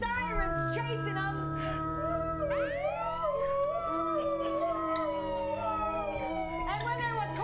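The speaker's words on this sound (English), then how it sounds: "drove through the city streets, sirens chasing them." Police sirens wailing and sweeping in pitch as they chase a car through city streets, with a howling, dog-like quality and faint talk underneath.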